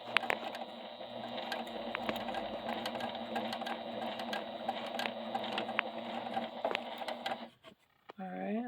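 A Juki TL 2000QI sewing machine stitches steadily with a fast, even whirring hum for several seconds, then slows and stops, followed by a brief mechanical whine; a person speaks faintly over it.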